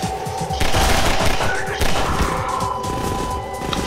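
Rapid machine gun fire in the video game Half-Life 2, dense bursts of shots and impacts layered over one another, loud and close throughout.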